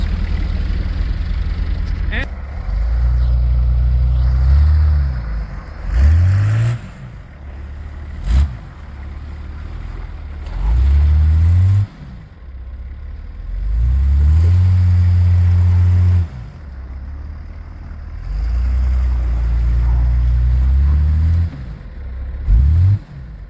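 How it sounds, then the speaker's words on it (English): A Nissan Patrol fitted with tire chains revs repeatedly while its wheels spin in a snowbank, loud engine surges rising and falling in bursts with quieter gaps between them. "go over to the snowbank and then watch me try to drive into it and see me spinning or whatever else"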